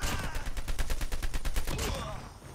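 Rapid bursts of automatic gunfire in Call of Duty Mobile, a fast regular rattle of shots for about two seconds that then trails off, with a voice faintly beneath.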